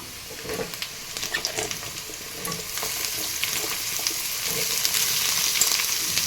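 A quarter kilo of brinjal (eggplant) frying with onions in a pan for vangi bath, a continuous close sizzle that slowly grows louder, punctuated by scraping stirs, with no talking.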